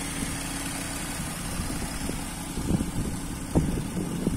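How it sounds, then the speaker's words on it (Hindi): A 5000cc Ford Mustang Convertible idles in Cambridge, Canada, with a steady, quiet low rumble that holds even and smooth throughout, a few slightly firmer pulses near the end, and no voices. "फाइव थाउजेंड सीसी का इंजन है इसमें लगा हुआ। आप देख सकते हैं कितना ट्यून्ड है, कितना बढ़िया,"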